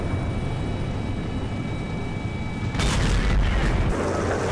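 A tank gun fires in the World of Tanks game, one heavy boom that bursts out over a steady engine drone and then rolls off, loud and close with no talk.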